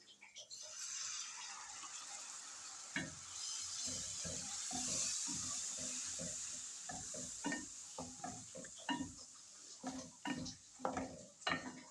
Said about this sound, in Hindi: थोड़ा सा डालेंगे पानी।